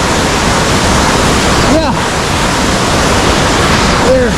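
Constant broadband roar of the Kuang Si waterfalls in Laos, heard near and loud in the Upper Falls area, with a brief voice and a couple of short calls over the rushing water.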